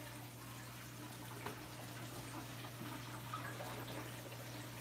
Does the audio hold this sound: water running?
yes